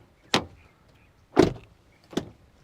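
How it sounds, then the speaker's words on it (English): Three separate solid thuds of a Toyota Camry's door shutting, spaced about a second apart, close and fairly loud with quiet between them. "now let's do a quick door sound check."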